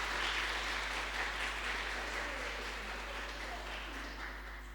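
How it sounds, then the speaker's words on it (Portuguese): Steady applause from a church congregation fills the whole stretch, even and sustained, slowly fading a little toward the end. "vocês possam dar aí uma salva de palmas para recebê-los"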